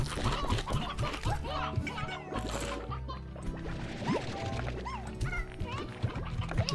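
Chickens cluck and squawk in the Slime Rancher video game, repeated fowl calls scattered over continuous game sounds while a person talks.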